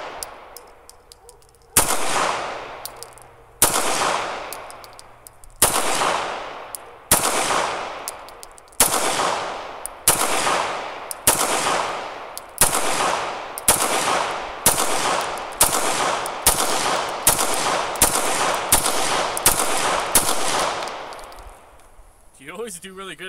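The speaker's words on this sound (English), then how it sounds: "You just start shooting really fast." A CZ 75 SP01 Phantom pistol fires about fifteen sharp, loud shots at targets, the first few spaced out and the rest coming quicker in a rapid, steady string, each crack ringing off briefly, with no talking.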